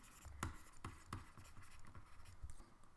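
A pen scratches out notes in short, quiet strokes with faint taps, close up and fairly soft against a hushed background.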